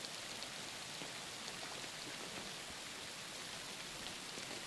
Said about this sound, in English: the rain makes it hard to know.